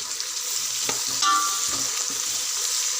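Steady, hissing sizzle of garam masala and onions frying in a pan, fairly loud and continuous, with a few light stirring scrapes.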